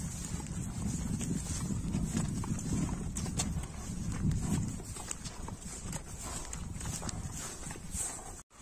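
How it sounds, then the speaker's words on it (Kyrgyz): Hooves clip-clop steadily as a horse walks at a horse sale, faint and somewhat distant beneath constant wind and outdoor background noise. "Экинчи номерде дагы бир ат чыгат"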